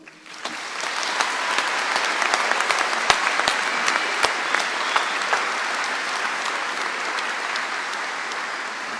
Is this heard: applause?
yes